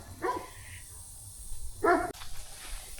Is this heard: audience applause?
no